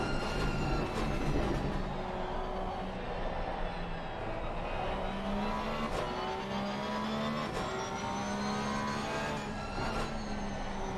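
A Porsche race car in the racing game Assetto Corsa at Laguna Seca roars steadily with its engine rising and falling through the gears, a constant loud mechanical drone with no talking.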